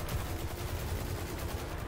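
Rapid, sustained automatic gunfire from the video game Destiny 2, loud and dense, with shots running together into a continuous roar and no talk over it.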